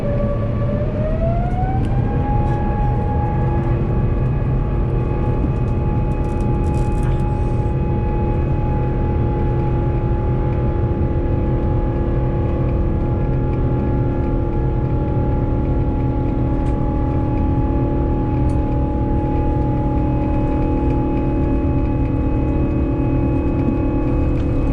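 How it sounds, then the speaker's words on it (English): Steady, loud jet engine roar inside an Airbus A350-1000 cabin at Hong Kong Airport, with a whining tone that rises early on and then holds level throughout. "Enjoy the A350-1000 engine sound"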